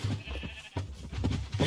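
Several sheep bleat in Minecraft, a run of nasal, wavering cries in quick succession at moderate volume, close by and unaccompanied by talk.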